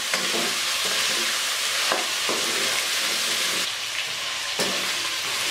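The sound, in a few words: chicken frying with ginger garlic paste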